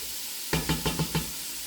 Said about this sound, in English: it's starting to make that sizzling noise